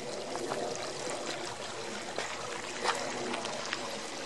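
Trickling water at a stream crossing on the Second Water Trail in the Superstition Mountains, a steady soft burble and splash running the whole time at moderate level with no voices.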